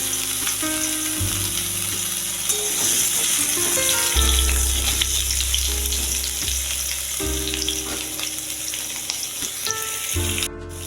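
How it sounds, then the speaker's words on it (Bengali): Boiled, peeled mini potatoes fry in hot oil for aloo dum with a constant loud sizzle, steady hiss and occasional stirring. "আলুগুলো প্রথমে আমি সেদ্ধ করে খোলা ছাড়িয়ে নিয়েছি এগুলো ভেজে নেব"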